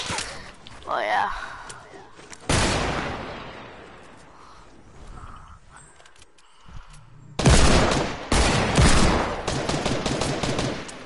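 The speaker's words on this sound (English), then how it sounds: "Where's he shooting from? Let him shoot at you, he doesn't know I'm here." Video game gunfire in a squad shooter match: several loud bursts of rapid shots with quieter gaps between them, mixed under excited voices of players talking to each other.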